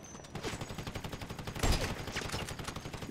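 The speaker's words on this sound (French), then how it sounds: "Elle me tire dessus. Elle me met des balles." Another player's gun fires in a video game as a steady stream of rapid, regular shots with one heavier impact midway, moderately loud, with faint talk in the background.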